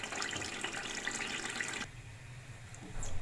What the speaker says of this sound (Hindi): थोड़ा सा इसमें मैंने डाल दिया है पानी